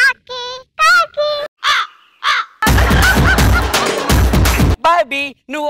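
Repeated harsh crow caws in short, rising and falling bursts, heard on a comedy TV show stage, with a loud noisy roar in the middle before more caws follow. A human voice may be imitating the calls.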